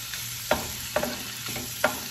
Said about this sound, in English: stir fry around the pan